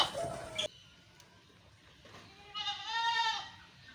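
Cross-breed goats on a goat farm bleat, with a short burst at the start and a longer wavering bleat near the end, fairly close against quiet background.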